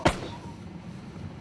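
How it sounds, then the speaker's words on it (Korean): A single sharp gunshot cracks in the mountains at the start, then fades into a low, hollow ambience with faint rumbling. "분명 총소리였다."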